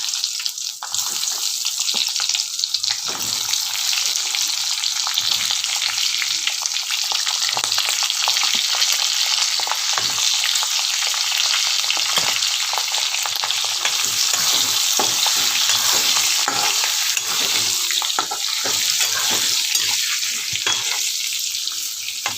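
Chopped capsicum (bell pepper) with a little turmeric fries in a pan, a steady loud sizzle running throughout with frequent scraping stir strokes, no talking.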